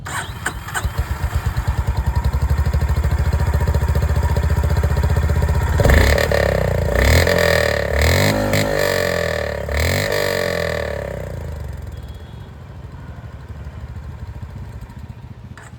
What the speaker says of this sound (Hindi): जो एग्जॉस्ट साउंड है वो भी मैं आप लोगों को यहां पर बिल्कुल एक बार सुना देता हूं